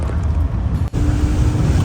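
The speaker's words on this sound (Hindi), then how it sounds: "भाई देखो पानी भर भर के आ रहा है" Water rushes in below a bridge at a border crossing between Guinea-Bissau and Guinea-Conakry, a loud, steady, wind-buffeted roar that is close and continuous for a couple of seconds.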